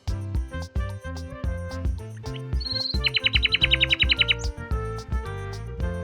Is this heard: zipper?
no